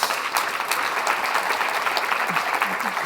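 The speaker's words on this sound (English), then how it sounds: "Please give a big round of applause to Omnia and Omrani" A conference audience claps in sustained, dense applause that stays steady and loud across the whole stretch, with a few brief voices rising faintly through it.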